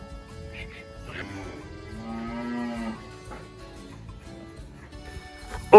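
A cow on a farm gives one drawn-out moo close by in a quiet corral, followed by softer shuffling and a sharp knock at the end.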